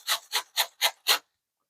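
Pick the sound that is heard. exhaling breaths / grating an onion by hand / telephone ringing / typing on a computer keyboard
grating an onion by hand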